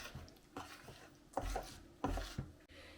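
A gingerbread dough mixture of honey, eggs and melted butter with lard being stirred in a bowl, with several uneven scraping and knocking strokes close by that build toward the end.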